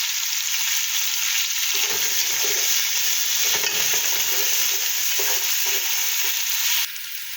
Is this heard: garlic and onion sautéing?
yes